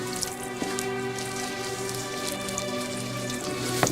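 Water poured over the left side of a body during ritual washing, a steady splashing and trickling stream that runs continuously at moderate loudness, with a faint tonal hum underneath.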